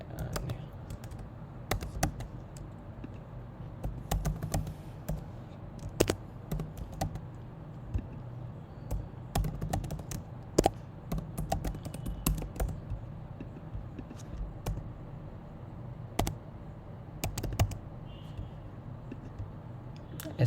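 Typing on a computer keyboard while entering details into a PHP and MySQL web form, steady close key taps with sharper clacks scattered through, alone without talk.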